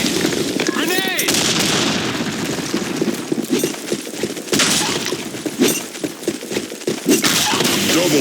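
Explosions and rapid gunfire in the Blackshot online shooter, on a sandstorm map, loud and dense with repeated blasts, crackling shots and thuds throughout, with game voice callouts mixed in.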